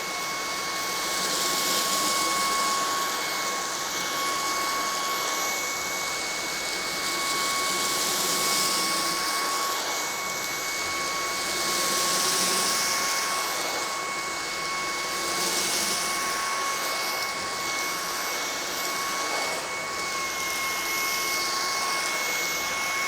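A Eureka cordless vacuum cleaner runs continuously at close range, a steady loud motor whine with sustained high tones and airy rushing that rises and falls gently, with no voices.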